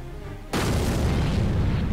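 Final Explosion skill blast in the Roblox game Anime Story, a sudden loud booming burst that kicks in after a quiet half-second and roars on as a dense, sustained explosion rumble.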